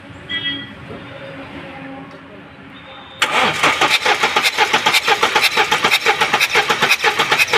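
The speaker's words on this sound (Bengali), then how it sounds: "তোমরা দেখতে পেলে যে ইঞ্জেক্টরের 2 নম্বর ইঞ্জেক্টর থেকে কিভাবে কম্প্রেশন লিকেজ হচ্ছে" A Mahindra Xylo mHawk diesel engine with compression leaking from its number 2 injector: quiet background with a voice, then the engine fires up and runs with a loud, rapid, rhythmic knocking clatter close by.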